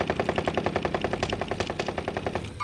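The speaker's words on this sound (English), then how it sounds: "Oh, he's shooting me." Rapid automatic gunfire in the video game Call of Duty: Modern Warfare, a fast, even burst of close, loud shots rattling continuously for a few seconds with no talking.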